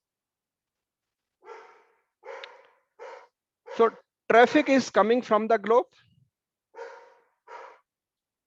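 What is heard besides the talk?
dog barking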